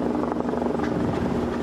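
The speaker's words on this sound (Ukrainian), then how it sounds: "гамують стихію за допомогою гелікоптерів" A firefighting helicopter flies over a winter wildfire, its steady rotor and engine roar continuous and loud throughout the short stretch, with no voices.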